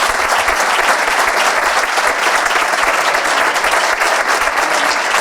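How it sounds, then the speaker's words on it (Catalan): Loud, dense applause from a large crowd at an awards gala in Ibiza, steady and sustained throughout with no talking over it. "Un fort aplaudiment per Juanito Talayas."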